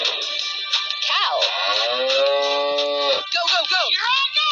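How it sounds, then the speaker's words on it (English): A cartoon cow in an animated 3D animal slide game gives a long, loud, drawn-out moo that bends in pitch, close and clear, with a brief animated voice at the start. "Cow."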